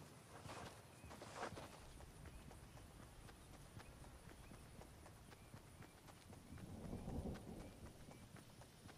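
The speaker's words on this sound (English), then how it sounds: "I hear other footsteps" Footsteps of a player in Fortnite, a steady patter of quick steps running through the match, moderately close and continuous, with heavier rumbling game noise behind them.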